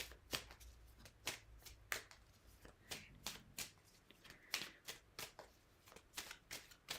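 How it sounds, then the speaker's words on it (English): Tarot cards are shuffled by hand in a steady series of crisp, riffling bursts, close and fairly quiet, with no voice over them. "let me have a look at that question while I'm shuffling"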